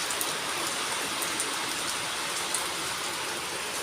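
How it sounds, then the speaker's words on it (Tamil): Heavy rain that has poured since the night before in a hometown village: a dense, even hiss of falling rain, loud and unbroken throughout, with no voices. "மழையை பார்த்தீங்களா, நைட்லேருந்து வெளுத்து வாங்குது."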